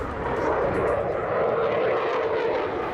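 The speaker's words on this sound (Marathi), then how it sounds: "गंगा एक्सप्रेस वेवर राफेल मिराज सुखोई जगवार ही लढाऊ विमानं रोरावत आहेत" Fighter jets, including Rafale, Mirage, Sukhoi and Jaguar aircraft, roar loudly and steadily over the Ganga Expressway during an air force landing exercise, a dense, unbroken jet rumble with no voices.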